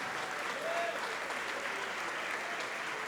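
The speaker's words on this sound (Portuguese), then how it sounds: "E vamos aplaudir ao Senhor Jesus por cada vida que está chegando." A church congregation applauds during a worship service, a steady even wash of many hands clapping, moderately distant and soft, with faint voices mixed in.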